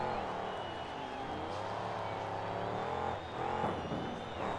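Violator monster truck engine roars and revs steadily while spinning donuts at a freestyle finals event, a loud sustained rumble with shifting pitch and a brief dip near the end.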